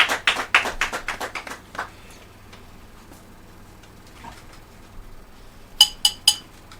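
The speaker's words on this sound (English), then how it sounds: "Please, a round of applause for her." Scattered hand clapping from the audience at a girls' secondary school oratory competition grand finale: a burst of claps at the start that fades out within two seconds, then three sharp claps near the end.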